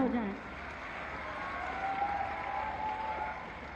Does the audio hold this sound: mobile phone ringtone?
no